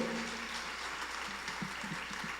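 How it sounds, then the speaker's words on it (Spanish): A church congregation applauds in a steady, moderate wash of clapping, with a low voice murmuring faintly underneath. "Démosle un fuerte aplauso, por favor."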